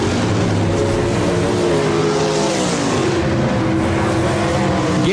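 RaceSaver sprint cars roaring around Park Jefferson Speedway, a loud continuous engine drone with pitch shifting as cars pass, busy and dense throughout with no distinct speech.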